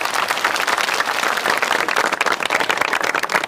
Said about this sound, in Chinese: 让我们用最热烈的掌声，欢迎曲省长讲话、指导工作